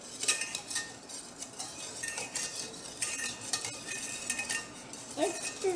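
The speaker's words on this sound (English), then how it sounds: "now we're going to whisk together the milk and the heavy whipping cream together" Milk and heavy whipping cream are whisked together in a bowl for a mango gelato base, giving a steady run of close metallic clinks and scraping taps with no voices.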